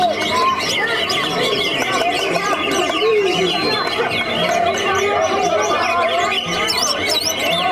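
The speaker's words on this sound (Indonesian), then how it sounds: "Andalannya masih bersama Cucak Hijau Nawang Wulan ya" Green leafbird (cucak hijau) songbird singing at a bird contest, with bright, busy warbling phrases and chirps running continuously and loudly over a crowded background of other birds and murmuring voices.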